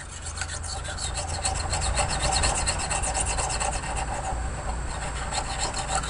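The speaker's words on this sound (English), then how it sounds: "real lightly scrape it to get the majority of the glue off" An arrow shaft is lightly scraped to remove glue and leftover adhesive, a steady close rasping rub that runs continuously with a faint low hum underneath and no talking.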